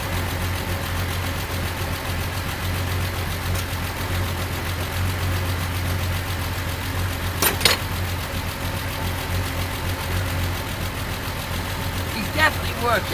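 A Triumph TR6 classic car engine with fuel injector issues idles steadily at close range under people talking, with a couple of brief louder bursts.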